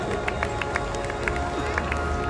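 A crowd at an Olympic Day flame-lighting ceremony on a town square claps in a dense, continuous patter, with scattered louder claps standing out over a steady murmur of voices and outdoor noise.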